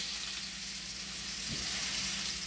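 Meat frying in a pan, giving a steady, close, bright sizzle throughout, with a brief soft thud as the piece is flipped partway through; no voices.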